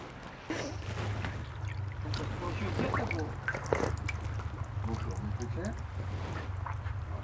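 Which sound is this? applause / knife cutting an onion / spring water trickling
spring water trickling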